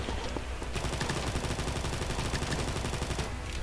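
Rapid automatic gunfire in the video game Combat Master, a dense, loud burst of shots running continuously for several seconds with no talking.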